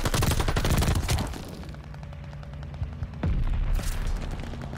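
SMG gunfire in the video game Call of Duty: Vanguard, rapid bursts of close, loud automatic shots with booming impacts, a pause, then another burst near the end.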